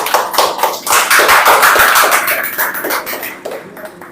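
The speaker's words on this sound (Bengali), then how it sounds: "হাততালি জোরে" A crowd claps loudly and steadily for several seconds at a children's party game, dense overlapping hand claps tapering off toward the end.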